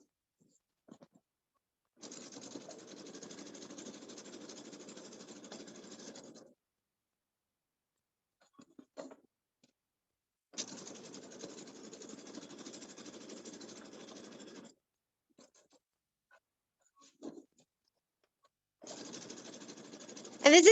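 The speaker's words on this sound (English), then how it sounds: "this is just top stitching, doesn't have to be perfect" A home sewing machine running top stitching in three steady whirring bursts of several seconds each, separated by quiet pauses with faint handling clicks, close and moderately loud.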